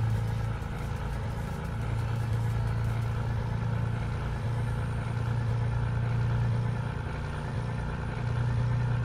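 A Euro Truck Simulator 2 truck engine drones steadily at low volume, a constant idling-like rumble with sustained low tones running unbroken throughout.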